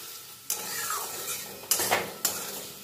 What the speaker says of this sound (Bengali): ততক্ষণ মশলাটা আলুর সঙ্গে কষাবো যতক্ষণ না এর থেকে তেল রিলিজ করে